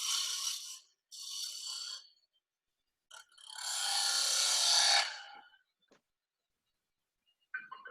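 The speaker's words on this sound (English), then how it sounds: "Use a little scraper there." A small hand scraper rasps across a surface in several bursts: two short strokes, then one longer, louder scrape, with brief scratches and a faint tap near the end. No one speaks.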